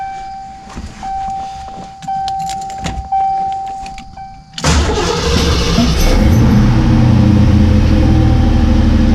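Keys jangle briefly, then the engine of a 1986 Fox Body Mustang fitted with a T5 transmission cranks and catches, settling into a loud, steady idle.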